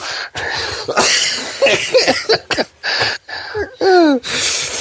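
A run of harsh, repeated coughs and throaty bursts, close and loud, with wheezy gasps between them and a strained, rising rasp near the end.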